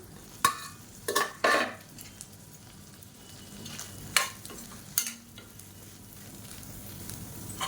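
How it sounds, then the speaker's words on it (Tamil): Soya chunks frying in oil in a kadai: a soft steady sizzle underneath, broken by several sharp scrapes and clinks of a spatula stirring against the pan. "இதில் நம்ம நறுக்கி வச்சுருக்க இந்த மீல் மேக்கரை சேர்த்துக்கலாம் சேர்த்து நல்லா வறுத்து எடுத்துக்கலாம்"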